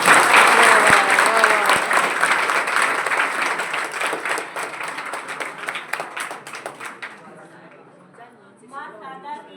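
Loud, dense applause from an audience at a retirement ceremony, steady at first and then thinning and fading toward the end, with voices and chatter audible in the crowd.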